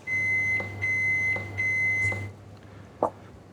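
A microwave oven signals the end of cooking an aubergine with four evenly spaced electronic beeps over its humming fan, which then cuts off, followed by a single faint click as the door is opened.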